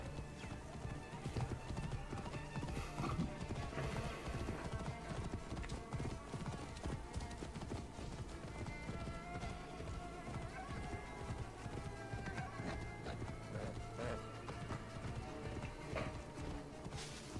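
Horse hooves gallop in Assassin's Creed Origins, a rapid, continuous clip-clop rhythm at moderate volume with an occasional faint whinny and quiet game ambience underneath.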